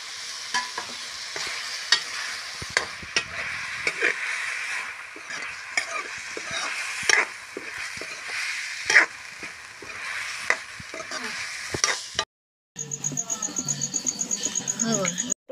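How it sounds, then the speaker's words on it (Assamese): Tomatoes frying with spices in a pan, a steady close sizzle broken by frequent clinks and scrapes of stirring, with occasional faint voices and a brief cut to a different noisy scene at the end. "তাৰ লগতে মই বিলাহীখিনি ভাজি ল'ম বুলি ভাবিছোঁ"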